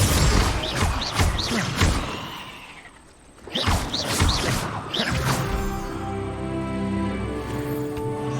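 Confringo blasting curse impacts in Hogwarts Legacy: a series of loud crashing, whooshing spell blasts in quick succession, a brief lull, then more smashing impacts followed by a sustained rumbling after-effect.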